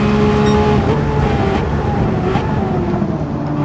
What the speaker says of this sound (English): Hodgie pulls alongside Graham as they race up to turn 3